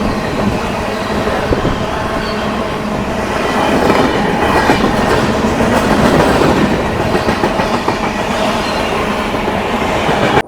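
The Netravati Express rushes through Chowara railway station, loud and close, with a dense roar of wheels and carriages and a clattering rhythm that grows stronger toward the middle and stays on for over ten seconds.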